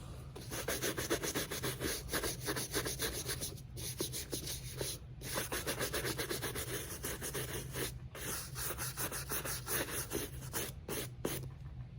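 A brush scrubs steadily and closely over a Victor Cruz trainer sneaker, sweeping loose debris off the shoe in a continuous dry rasping stream with brief pauses, and no voices.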